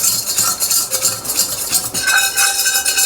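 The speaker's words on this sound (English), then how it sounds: "So I'm gonna use a whisk. You stir like crazy." A metal whisk stirs flour briskly in a hot pot, giving a steady, continuous scraping and swishing with rapid rhythmic strokes, close and fairly loud, no talking.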